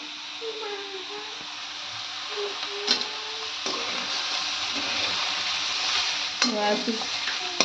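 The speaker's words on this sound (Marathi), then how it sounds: "सोयाबीन चांगलं परतवून घ्यायचे." Soybean chunks sautéing with ground masala in a pan give a steady, close sizzle and fry with occasional stirring scrapes, heard alone without talk.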